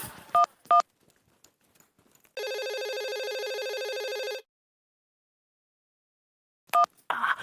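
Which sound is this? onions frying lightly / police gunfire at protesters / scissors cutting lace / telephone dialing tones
telephone dialing tones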